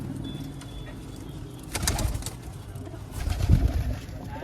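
Domestic pigeons in a rooftop loft coo in low, soft bursts as the flock settles inside, with the loudest cooing near the end over steady background noise.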